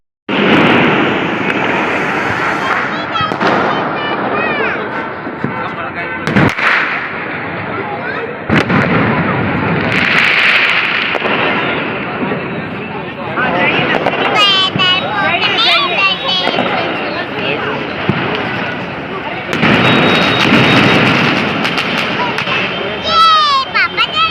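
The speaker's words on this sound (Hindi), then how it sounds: "नीचे में पटाखे फोड़ने के लिए पूरे सोसाइटी वाले जुट हो रहे थे" Diwali firecrackers burst in a housing society courtyard at night, loud sharp bangs and crackling pops going off repeatedly over a constant roar of noise, while children and adults talk and shout throughout.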